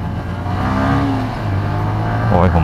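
Motorcycle engine revving up as it accelerates to overtake a CB on the road, a loud close rising drone with wind rush, a voice speaking over it.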